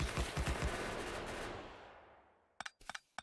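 Turrets in Factorio let off a short burst of rapid automatic fire at the start, then a long fading tail, followed by a few sharp clicks, with no talk.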